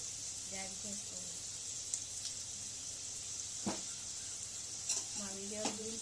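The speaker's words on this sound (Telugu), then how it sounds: "ఇది మంచిగా ఉల్లిపాయలు, పచ్చిమిర్చి వేగుతున్నాయి కదా" Onions and green chillies fry quietly in a pan for a goat-head masala sherwa, a soft continuous sizzle with occasional utensil clinks, under intermittent speech.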